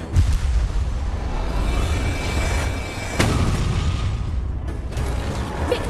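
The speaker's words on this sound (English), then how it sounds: "Your team has destroyed a turret." A turret collapses in the Honor of Kings video game with booming, mechanical crashing impacts, a sharp loud burst near the middle followed by another heavy hit, over a continuous rumbling game soundscape.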